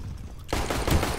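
Rapid automatic gunfire in a Counter-Strike match, a loud dense burst of shots that starts suddenly and continues to the end.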